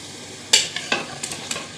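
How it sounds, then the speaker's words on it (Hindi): Boiled beef chunks are stirred and fried in a ghee-rich masala, a bright sizzle with several sharp scraping stirs of a spoon against the pot, close and without speech. "इसको इस मसाले में इतना भूनेंगे कि ये मसाला जो है इन बोटियों के अंदर चला जाए"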